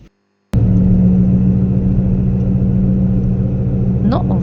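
A car carries passengers on the way to a swimming pool, its steady engine hum and road rumble filling the cabin close and constant after an abrupt start, with a brief voice near the end.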